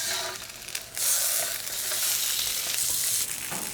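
Chicken legs and wings go into a hot paella pan, setting off a loud, continuous sizzle with a few clicks and shifts as pieces settle, no speech.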